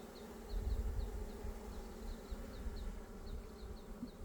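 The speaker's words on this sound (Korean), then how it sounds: "하단에는 숯벌이 많습니다" Honeybee drones on a hive frame give a steady, close buzzing drone that swells slightly near the start and carries on without pause.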